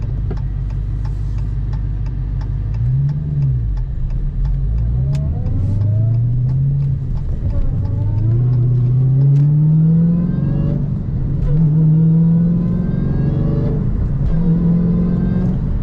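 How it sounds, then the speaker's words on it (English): A 2016 Dodge Challenger SRT Hellcat with a 6-speed manual revs up through rising gear pulls, the pitch climbing repeatedly as it accelerates, loud and close with a steady rumble underneath. "Good acceleration, as you would expect."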